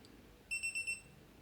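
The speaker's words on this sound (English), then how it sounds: "its alarm is going to ring" A Gravity Timer alarm goes off with four quick, high-pitched electronic beeps in a rapid, even burst, clear but fairly quiet against a soft room background.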